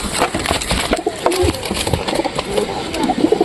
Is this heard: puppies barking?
no